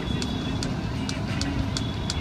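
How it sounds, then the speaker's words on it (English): Riding pillion on a motorbike in India gives a steady rumbling engine and road-noise roar throughout, with faint regular clicks or ticks above it. "Riding on the back of a bike thing."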